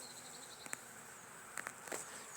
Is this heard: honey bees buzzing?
yes